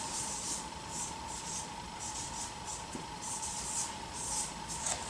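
A thin marker writes in script on flipchart paper, making short, repeated squeaky scratches in quick bursts separated by brief pauses over a faint steady hum, close and fairly quiet.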